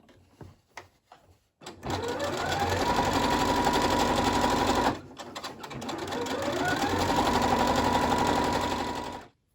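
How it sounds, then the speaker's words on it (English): A sewing machine stitches shirring lines into fabric with two long, steady, loud whirring runs separated by a brief stop, and a few soft clicks come before the first run. "remember to keep pulling it out as you're stitching so that these sort of folds don't get caught within your stitch line"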